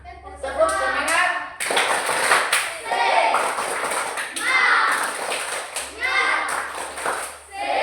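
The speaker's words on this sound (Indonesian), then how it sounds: "Tepuk semangat." Schoolchildren clap their hands together in a classroom in sharp, rhythmic bursts, mixed with their own chanting voices and a teacher's prompting, loud and close with short pauses between rounds.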